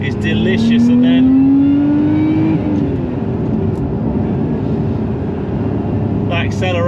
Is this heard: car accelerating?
yes